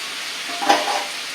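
Pumpkin pieces sizzle briefly in hot cooking oil in a pan, a soft frying hiss with a short stirring swell near the middle, faint and close.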